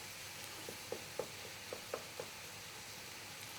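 Tomato paste and garlic cook quietly in a pan with a soft, steady sizzle, broken by several small pops and crackles spaced irregularly over a few seconds.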